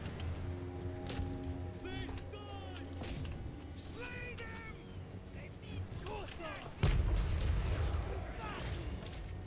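Ranged units firing during a Total War Warhammer 3 battle, a steady mix of booming artillery-like volleys and gunfire running throughout, with a heavier blast near the end, under continuous talk.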